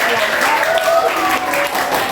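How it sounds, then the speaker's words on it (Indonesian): A classroom full of people claps steadily and enthusiastically, a dense patter of applause that holds at an even level throughout. "Silakan berikan tepuk tangan ya perwakilan kelompok"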